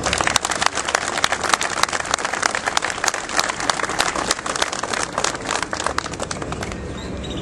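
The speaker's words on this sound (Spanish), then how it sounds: "para quien solicito un caluroso aplauso" An audience applauding at a civic anniversary ceremony for Benito Juárez in Valle de Chalco: a full, sustained clatter of many hands, loud and steady throughout, with no talking over it.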